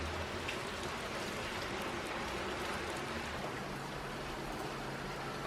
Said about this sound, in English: That's some very loud rain.